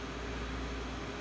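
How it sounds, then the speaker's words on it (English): Steady electric fan whirring in a humid room, a constant broadband hum with no voices, even and unchanging throughout. "I am sorry about the fan in the background."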